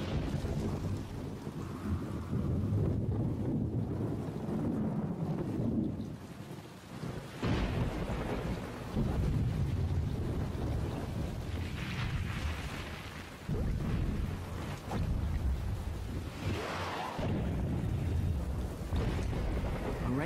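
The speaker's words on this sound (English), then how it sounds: "A rainstorm can be deadly." Heavy rain pours steadily during a storm while deep rolls of thunder swell and fade several times, loud and rumbling throughout with no voices.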